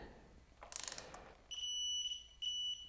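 A torque wrench set to 15 Newton meters makes a quick burst of ratcheting clicks while tightening a dirt bike fork, followed by two sustained high electronic tones, close and fairly loud, with no talking.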